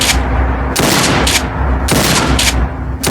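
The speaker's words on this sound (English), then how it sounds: "And this is a shotgun, right?" A modern shotgun from a Fallout 4 weapon pack fires repeatedly, loud and close, with blasts evenly spaced roughly every half second to second and short echoing tails between them, no voices.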